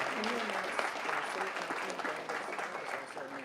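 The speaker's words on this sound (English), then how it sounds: "please, a round of applause for the mayor, for Dr. Sauls" An audience applauds the mayor at a CollegeBound Awareness Month ceremony, a steady clatter of clapping with voices talking and calling out over it.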